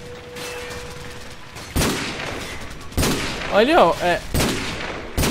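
Gunfire in the video game Call of Duty 4 comes as several sharp, separate bursts of shots, with a voice speaking briefly between them.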